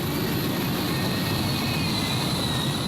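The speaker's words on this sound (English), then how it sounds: "And this is our turbine tractor, which is Russian Roulette XL" Russian Roulette XL, a turbine-powered pulling tractor from the Netherlands, screams steadily at a tractor pulling event in Brande, Denmark, a continuous high-pitched jet whine over a broad roaring rumble, heard from a distance.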